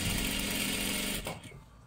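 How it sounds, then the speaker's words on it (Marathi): A sewing machine runs steadily, stitching dress fabric in a continuous whirring drone that cuts off abruptly near the end, leaving a quiet tail. "पूर्ण शिलाई करत करत आपल्याला घ्यायचं आहे"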